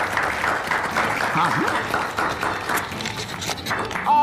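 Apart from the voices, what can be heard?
audience applause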